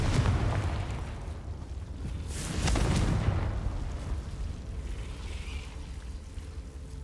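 Confringo blast spell in Hogwarts Legacy, a fiery explosive burst with a booming rumble that swells near the middle and trails off into a crackling decay, no talk over it.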